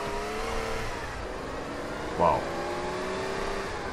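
Car engine accelerating in a video game, a steadily rising revving drone held for several seconds, with a brief sharp bump partway through and voices talking over it.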